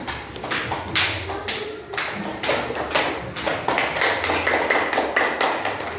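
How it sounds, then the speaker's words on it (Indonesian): Classroom students clap for group three, a somewhat uneven burst of hand claps in rhythmic clusters, fairly close and loud, with little talking. "tepuk tangan untuk kelompok tiga"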